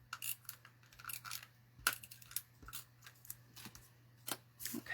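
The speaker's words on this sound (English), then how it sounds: "I'm just going to use my adhesive" Adhesive tape applied while assembling a Stampin' Up shaker card with cardstock: a run of small, sharp crinkles, taps and peeling clicks scattered irregularly over a few seconds, close and fairly quiet.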